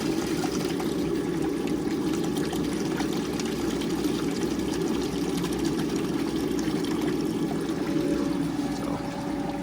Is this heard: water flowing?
yes